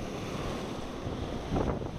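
Strong wind buffets the microphone during lakeside trout fishing, a steady broadband roar with a louder gust near the end and no talk.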